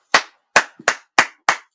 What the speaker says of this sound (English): Let's give a better clap for Tefila for 3 points.